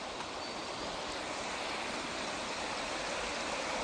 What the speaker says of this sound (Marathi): हे पाणी शांतपणे वाहत आहे